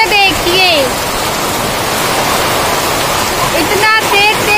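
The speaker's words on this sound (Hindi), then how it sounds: "तेज बारिश हो रहा है, ये देखिए" Heavy rain pours down in a dense, steady hiss close by. A few brief, higher-pitched chirping sounds break through near the start and the end.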